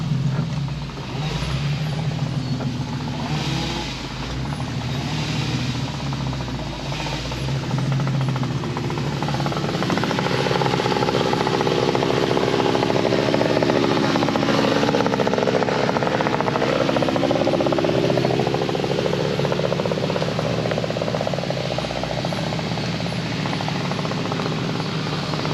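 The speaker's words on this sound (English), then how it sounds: "Michael's just walking along in front of me with a brush cutter" A brush cutter run by someone walking ahead along a track, with a car creeping slowly behind, gives a continuous loud buzzing engine drone that holds steady for the whole stretch.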